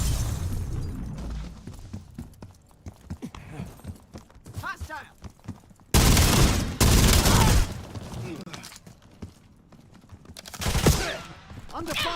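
Gunfire rattles in a video game. Bursts of shots and booms come in short waves, with two loud dense volleys in the middle and near the end. A person talks over the game sounds between the bursts.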